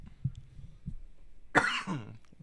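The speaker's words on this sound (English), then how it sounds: "I'm going to take a break to cough." A single sharp cough, close and fairly loud, after a few quiet low murmurs and small noises.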